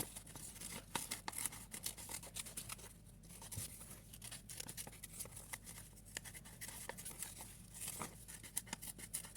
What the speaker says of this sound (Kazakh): Осылай қиып аламыз